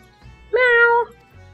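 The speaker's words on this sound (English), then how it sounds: "And now it's time for the cutest, silliest wee cat" A cat in the video game Final Fantasy XIV gives one clear, close meow about half a second long, with quiet game background sounds before and after it.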